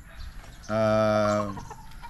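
Rooster at a game farm in Cebu giving one short, loud, tonal crow of about a second, close by, against quiet farm background.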